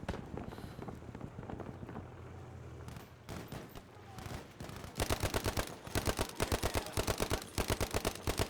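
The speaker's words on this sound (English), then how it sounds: "Yeah, suppressing fire." Gunfire and suppressing fire in a Battlefield V battle, with scattered shots early giving way to dense, loud rapid bursts over the last few seconds.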